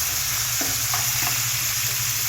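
Chopped tomato hits a pan of frying onions, producing a dense, steady sizzle with a few soft stirring knocks, close and loud.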